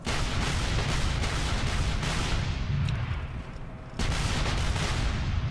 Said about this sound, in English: Let's commit that bombardment.